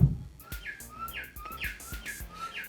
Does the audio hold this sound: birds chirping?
yes